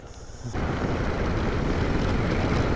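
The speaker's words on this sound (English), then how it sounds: "If you're a little bit taller, the wind's gonna beat the heck out of you on this bike." Steady roaring wind buffeting a rider on a 2024 Harley-Davidson Street Glide or Road Glide touring motorcycle at speed, a constant loud broadband rush that swells in after a quieter opening, with no talking.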